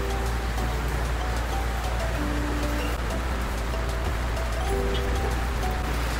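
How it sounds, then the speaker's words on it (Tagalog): Steady, dense rainfall hisses continuously throughout, a heavy downpour with a low rumble underneath and no voices. "pasensya na pala sa background noise kasi umuulan ngayon, lakas ng ulan"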